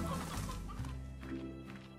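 Chickens in the farming video game Slime Rancher cluck softly in a cluster, short irregular calls over a steady background of game ambience.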